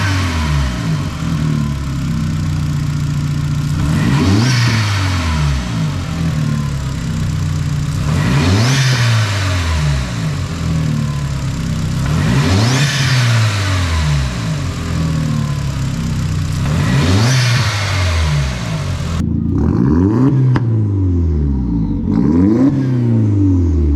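A cold MK4 GTI 20th Anniversary Edition engine, fitted with a new turbo inlet pipe, runs at a steady idle with five repeated revs that rise and fall, each with a whooshing turbo tone, close up.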